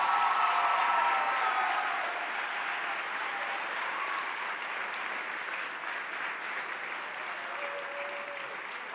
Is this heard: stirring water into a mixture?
no